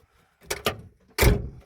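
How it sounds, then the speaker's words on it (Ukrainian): A Volkswagen T3 van door being operated, with a couple of short clunks followed by a louder, fuller thud close by, with no talking. "відкриваються дверцята."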